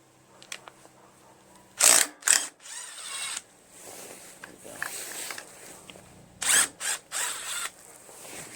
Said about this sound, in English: Got a socket this time for the nut